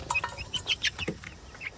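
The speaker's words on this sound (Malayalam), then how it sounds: "ഇത് ഉമ്മക്ക് വേണ്ടിയിട്ട് വാങ്ങിയ കോഴിക്കളാണ് കേട്ടോ" Country hens and their chicks cluck and cheep close by in short, overlapping calls over a brief moment, with no voices.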